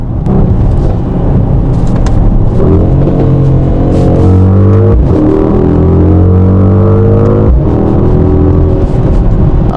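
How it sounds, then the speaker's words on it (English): A stock, unmodified car accelerates hard through a pull, its loud engine note climbing in pitch through a couple of gear changes, close to the microphone, with no talking. "I'm gonna show you guys how this car sounds raw, no mods, no nothing."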